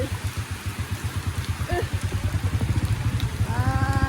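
Steady rain hisses across the whole scene while someone travels out through the downpour, and a pulsing low engine hum runs beneath it.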